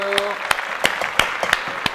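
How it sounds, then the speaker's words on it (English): A small group claps a round of applause for a cook at a vegan jackfruit winter cooking demonstration, with a few sharp scattered claps over soft background voices. "Round of applause for Joe."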